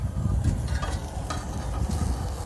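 Food crackles and sizzles in a hot pan at a campsite, a close, steady frying hiss with occasional stirring scrapes and no talking.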